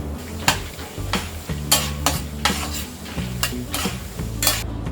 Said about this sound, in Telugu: రోస్టెడ్ చనా దాల్ అంటే పుట్నాల పప్పు కూడా బాగా ఫ్రై అయిపోయింది